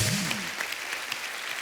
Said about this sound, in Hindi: तो एक बार फिर से अपनी अपनी मम्मी के नाम पे ताली हो जाए।